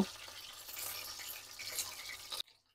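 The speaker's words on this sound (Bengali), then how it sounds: "চিকেনগুলো আমার এক সাইড ভাজা হয়ে গেছে, আমি আর এক সাইড ভালো করে লাল করে ভেজে নেব।" Chicken pieces fry in hot oil for chowmein, giving a steady hiss and crackle that stops abruptly near the end.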